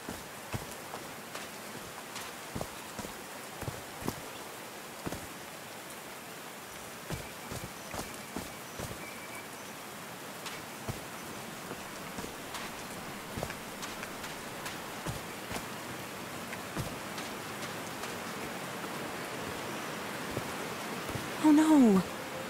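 Rain falls in the video game Call of the Sea as a soft, steady hiss. Faint footstep-like taps recur throughout, and a brief louder knock comes near the end.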